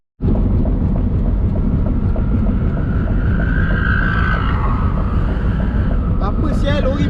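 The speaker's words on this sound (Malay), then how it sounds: "Apa sial lori bunyi macam tu?" A lorry labours uphill with a loud, heavy, continuous rumble and roar that stays close and constant throughout.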